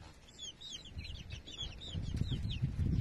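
Month-old young chickens fighting, chirping and clucking in quick high bursts while wings and bodies scuffle with low thumps and rustles close by, growing busier toward the end.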